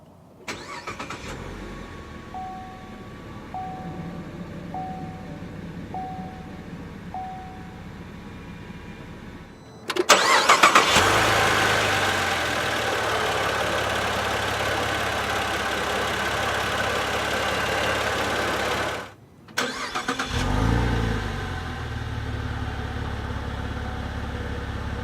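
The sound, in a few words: Saab 9-4X Aero 2011 engine starting and idling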